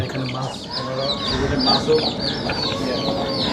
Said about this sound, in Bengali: তখন ছোট ছোট মুরগির বাচ্চা